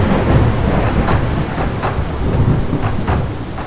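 Heavy rain pours steadily in a thunderstorm, with rumbling thunder and scattered cracks throughout; loud, dense and continuous, with no voices.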